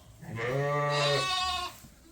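A sheep on a farm during lambing season gives one long, wavering bleat, close and clear, with quiet background noise around it.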